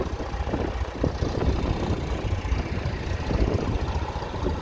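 A 1969 Massey Ferguson tractor fitted with a big snowblower chugs through frozen muck, its engine giving a loud, close, steady low rumble with rough, knocking texture throughout.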